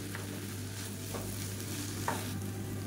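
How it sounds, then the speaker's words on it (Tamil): Egg masala rice being stirred in a pan over a high flame, with a steady close sizzle under soft scraping strokes of a spoon and a few sharper clinks against the pan. "இதை நல்லா கிளறி விட்டுக்கோங்க. ஹை ஃப்ளேம்லேயே வச்சு கிளறி விட்டுக்கோங்க."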